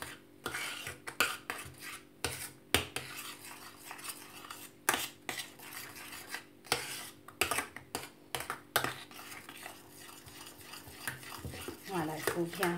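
A utensil stirs cake batter with butter in a bowl, giving repeated scraping and clinking strokes in an irregular rhythm, close and fairly quiet, with no speech.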